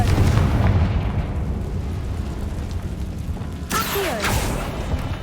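In the Hogwarts Legacy video game, a Confringo spell explosion lands as a deep boom followed by rumbling debris, then a sharp crackling, clattering burst of magical impact near the end.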